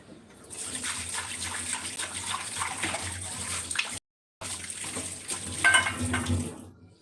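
Soaked food is washed under running water, with continuous splashing and gushing close by, a brief silent break partway through, then more vigorous rinsing.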